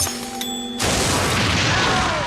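A sudden loud explosion from a car bursts in after a quiet tonal stretch, followed by a sustained broadband roar and rumble of debris that stays loud to the end.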